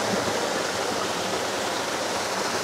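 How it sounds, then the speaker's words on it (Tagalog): Steady, close rushing of Mahiwaga Falls in Amadeo, Cavite, a waterfall pouring into a deep round pool, filling the clip as a dense, even roar with no talk. "Ang tawag ni boss dito ay Mahiwaga Falls."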